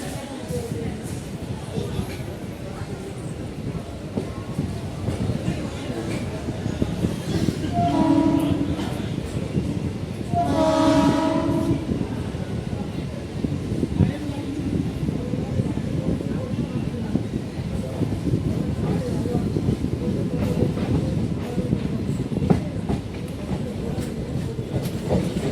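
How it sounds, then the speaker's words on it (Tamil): A MEMU electric commuter train from Coimbatore to Erode rumbles steadily along the tracks with rhythmic clatter, and brief horn-like tones sound partway through, under some background voices. "நம்ம ட்ரெயின் டிபார்ட்டிங் ஆகி போயிட்டு இருக்கு"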